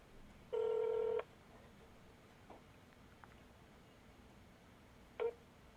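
Telephone dialing tones during a call: one sustained stacked tone of about half a second, followed much later by a short single beep, clear against a quiet background with faint handling noise and no voices.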